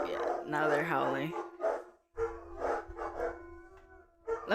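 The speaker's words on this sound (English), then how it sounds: "Yeah, now they're howling." Several dogs howl and bark in drawn-out, wavering tones, fairly close, with someone talking intermittently over them.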